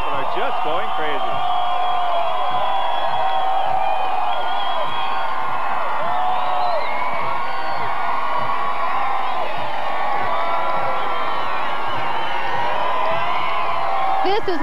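A dense crowd lining the route of a Blue Jays World Series parade, cheering and shouting in one loud, continuous roar while a commentator talks over it.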